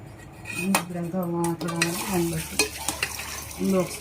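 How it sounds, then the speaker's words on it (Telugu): A utensil stirs through sambar in a metal pot, scraping and clinking repeatedly with a faint sizzle underneath. "మొత్తం తిప్పుకోవాలండి"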